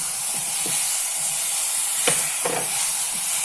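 Pumpkin added to a pan of sautéed tomatoes sizzles in a steady, bright hiss, broken by a few soft clatters and scrapes as the pieces land and are stirred, with no voices.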